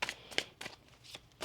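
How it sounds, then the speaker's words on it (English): A deck of tarot cards is shuffled in several quick riffles and flaps, each burst short and crisp, close and fairly soft, with brief pauses between them. "One more shuffle."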